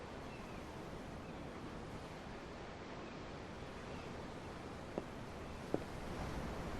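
Ocean waves in Tales of Arise, heard from aboard a ship: a steady, even wash of surf and wind that never breaks, with two faint clicks near the end.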